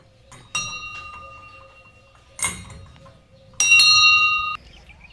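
A small bell on a ringing cart chimes in three separate bursts, bright and metallic, the last one sustained for about a second, with quiet pauses between.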